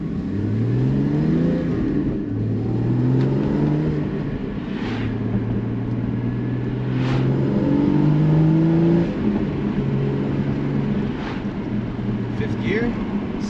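A 2016 Porsche Cayman GT4 engine pulls under light acceleration out of a neighborhood, heard from inside the cabin as a steady, fairly loud drone whose tones climb and settle through gear changes.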